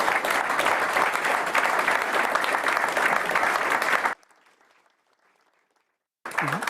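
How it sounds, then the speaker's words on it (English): A crowd at a cycling team presentation applauds loudly and steadily for about four seconds, then falls to near silence before a brief burst of sound returns at the end. "Can I get an applause for Christine, Chantal and Danny?"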